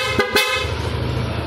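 Two short, loud honks from an aftermarket PIAA horn on a Yamaha NMAX Turbo scooter in quick succession, followed by a steady engine idle close by.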